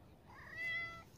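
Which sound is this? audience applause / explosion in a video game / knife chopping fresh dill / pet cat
pet cat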